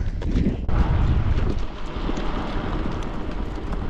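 Strong, steady wind buffets the microphone near a glacier and a waterfall, a loud broadband roar with a heavier low gust in the first half-second, continuous throughout without speech.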